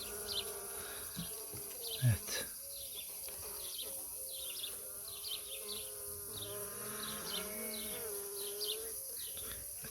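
Honeybees from an opened hive hum in a dense, steady drone as a brood frame is slowly lifted, with individual bees buzzing close past and a brief knock near the start; faint birdsong sits in the background.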